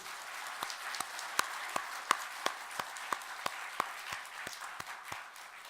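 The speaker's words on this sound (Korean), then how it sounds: "하나님께 영광의 박수를 올려드리겠습니다." Clapping during a church worship service, heard as sparse, sharp, evenly spaced claps at a fairly quiet level over a soft background.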